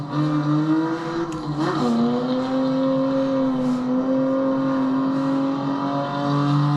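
A BMW M4 engine in the Assetto Corsa racing game hums with a steady, tonal drone, dipping briefly in pitch before settling back into a constant cruising note, with no talking.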